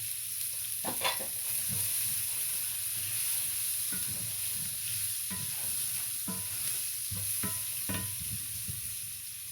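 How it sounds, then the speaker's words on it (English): Onions fry steadily in a hot pan with a continuous sizzle and hiss, broken by repeated scraping and stirring strokes close by, with no one speaking. "we're gonna put some onions in here. Onions in there, get them fried up"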